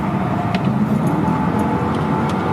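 A Mercedes CLK 55 with a non-supercharged V8 drives along, giving a steady low engine rumble and road noise throughout, without any voices.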